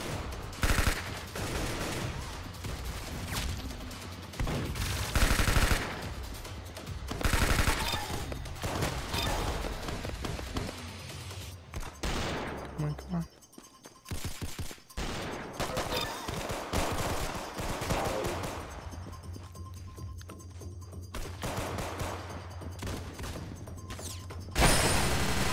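Rapid bursts of gunfire from the Roblox shooter game Arsenal, loud and dense through most of the stretch with a brief lull midway, then resuming with continued shots and impacts.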